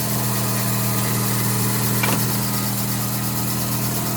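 A Mazda RX-7 FC with a street-ported rotary engine idles steadily, a close, constant burbling drone with one short blip partway through.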